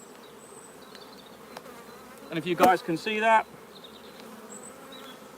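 Honeybees hum steadily in a low, continuous buzz around a hive frame during a nuc transfer, close by, while someone speaks briefly over it midway.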